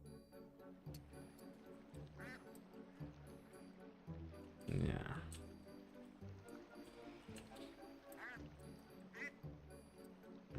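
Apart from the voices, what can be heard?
ducks quacking in the video game Teddy's Haven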